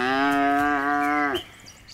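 One long, loud, close moo from a cow on a free-range farm holds steady for over a second, then breaks off, leaving only quiet barn ambience.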